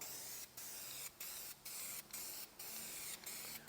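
Plastic trim restorer sprayed in a light first coat onto the faded plastic wiper cowl of a C5 Corvette, seven short hissing bursts in an even rhythm, each cut by brief gaps, close and fairly quiet.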